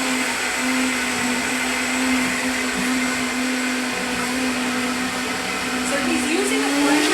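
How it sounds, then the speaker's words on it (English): A blender motor whirs steadily and loudly with a constant hum, blending a thick cheese sauce, running without pause from start to finish. "So he's using the blender in there"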